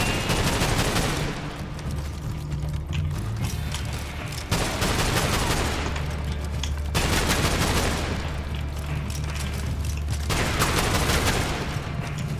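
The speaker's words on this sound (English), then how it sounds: "You have infinite Talon revolvers. And you shoot incredibly fast." Talon revolvers fire in a rapid, dense stream in a shooter video game, loud and close, in three long unbroken volleys.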